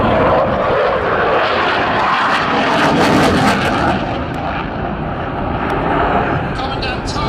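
Belgian Air Force 31 Squadron aircraft passing over a Scottish airshow: a loud, continuous roar that fills the whole clip and eases slightly toward the end, with a commentator's voice under it.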